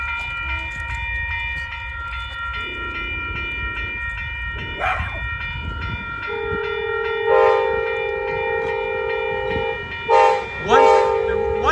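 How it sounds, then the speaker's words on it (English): An Amtrak California Zephyr, train number 5, led by P42DC locomotives, passes at Crockett, California, its horn sounding in long sustained blasts over rumbling rail noise and a ringing crossing bell, loud and close. "here comes Amtrak, California Zephyr, train number 5, and P42DC's leading this one off"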